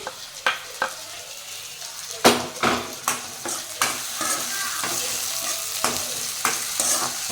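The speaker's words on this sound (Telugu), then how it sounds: "ఇప్పుడు కరివేపాకు యాడ్ చేసుకోండి" Curry leaves dropped into hot oil for a Rayalaseema mutton blood dish, sharp close pops and spluttering crackles over a steady sizzle, loudest at the start and easing into a continuous fry, no speech.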